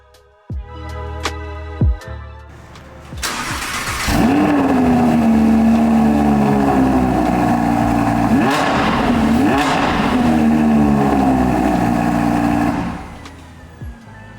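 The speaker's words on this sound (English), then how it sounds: "Let's start it up and hear how the original exhaust sound for one last time." A 2020 Audi R8 on its original factory exhaust cranks and fires up, settling into a loud idle with a few sharp revs rising and falling before it shuts off, heard alone without talk.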